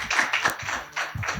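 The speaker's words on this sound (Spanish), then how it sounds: "Démosle un fuerte aplauso" Short burst of audience applause at a Masonic conference session in Albacete, dense overlapping claps at moderate volume for about a second and a half, with no talking over it.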